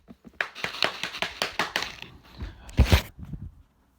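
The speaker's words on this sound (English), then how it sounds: "clap the eraser, and then pick it up back up quick so you can see" A chalkboard eraser clapped by hand, giving a quick series of soft, dull taps followed by a few louder, heavier claps near the end, close by and with no talking.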